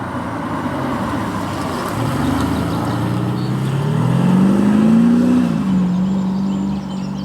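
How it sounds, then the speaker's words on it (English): An Audi SQ5's exterior sound actuator hums and rises in pitch as the engine revs, with a deep droning tone that climbs then drops back, heard from nearby. "What do you think about the exterior sound here it gives also from the sound actuator?"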